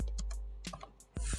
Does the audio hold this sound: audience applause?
no